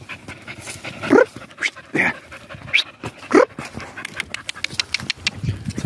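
A dog pants in quick, rhythmic breaths, close by, with a few sharper whimpering sounds mixed in and light rustling underneath.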